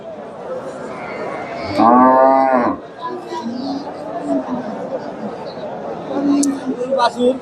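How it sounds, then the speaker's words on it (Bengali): A native cow at a cattle market gives one loud, close moo lasting about a second, over constant crowd chatter and a few more distant calls. "সুন্দর একটা গাভী বাচ্চা"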